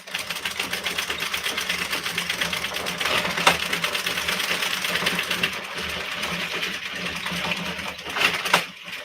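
A hand-cranked circular knitting machine clatters steadily, a rapid dense mechanical ticking that runs with a few louder clacks throughout.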